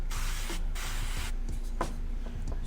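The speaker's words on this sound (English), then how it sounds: "let me spray this real quick." Two bursts of hissing cooking spray onto biscuits, close and steady, followed by softer scraping and rubbing noises against a low background hum.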